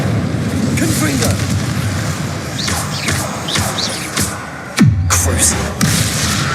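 Repeated spell blasts from Confringo and other spells in Hogwarts Legacy, several booming explosions with crashing debris over game music and noise, a sharp loud burst near the end.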